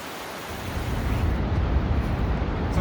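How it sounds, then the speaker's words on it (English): Vøring Waterfall, a 182-meter falls at Fossli on the Hardangervidda plateau in Norway, gives a steady, dense rushing roar that fills the clip at close range with no voices. "The last goal of the trip was Vøring Waterfall, which is 182 meters high"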